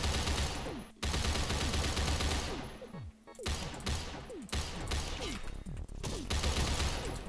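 Rapid gunfire from a new automatic gun in a Halloween update of the online shooter Phantom Forces, loud sustained bursts separated by brief pauses, with clicks and spent-casing tinkles between volleys.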